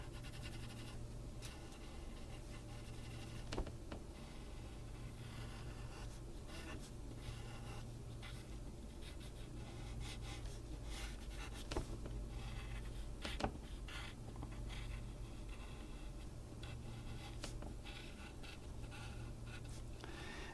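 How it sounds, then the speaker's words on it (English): A regular graphite pencil darkens in lines on paper in soft, continuous scratchy strokes. It sounds faint and close, with a steady rhythm and occasional small taps, and no voices. "we would take a regular pencil and we would go in and we would darken it all up"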